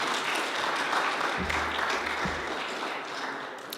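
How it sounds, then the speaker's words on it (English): After a student election speech, a modest audience gives a round of applause: steady, moderately quiet clapping that lasts a few seconds and eases off toward the end. "and round of applause for Jade Ma."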